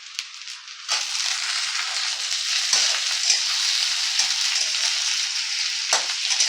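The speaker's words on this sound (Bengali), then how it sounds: "ভাজা হয়ে গেছে, আমি এবারে আলুগুলো দিয়ে দিচ্ছি।" Potatoes go into a pan of frying vegetables for vegetable sooji upma. A loud, continuous close-up sizzle is punctuated by a few sharp scrapes and clatters as the pieces are added and moved, with no speech.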